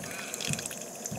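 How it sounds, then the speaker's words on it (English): Water trickling and dripping from a frozen tank at a mountain campsite, a faint, continuous watery patter with a few soft splashes. "attempting to get some water out of a frozen tank"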